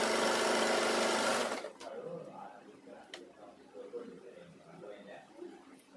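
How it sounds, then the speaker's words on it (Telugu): A sewing machine runs fast and loud for about a second and a half while double-stitching the shoulder seams of a girls' school uniform, then stops abruptly, leaving quiet handling noises behind. "డబుల్ స్టిచ్ అయితే వేసుకొని జాయింట్ చేసుకోవాలి."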